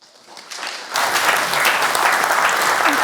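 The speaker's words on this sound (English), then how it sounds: "let's have a round of applause, please, for our panel and our chair." A lecture audience applauds a panel and chair, clapping swelling from scattered claps into sustained, dense applause that continues to the end.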